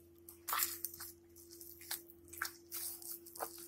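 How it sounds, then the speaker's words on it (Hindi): Soft, squishy pressing and slapping sounds repeat irregularly, close and quiet, as hands knead gram flour (besan) dough, over a faint electrical hum. "आटे को आप जितना गूंदोगे उतना ही सॉफ्ट और अच्छे गट्टे बनेंगे।"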